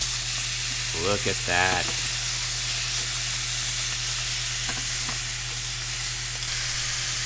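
Duck breasts sear in a buttered pan with a steady, close sizzle and frying hiss running throughout, while someone speaks briefly near the start.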